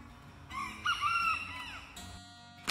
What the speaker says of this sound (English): That's rooster Cogburn.